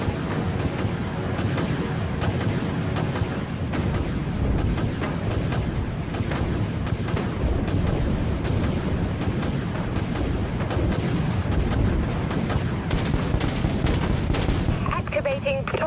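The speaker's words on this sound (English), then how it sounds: "Launching torpedoes" Torpedoes launch during a naval battle in the video game Dreadnought, set amid a dense, nonstop barrage of booming weapon fire and rapid bursts.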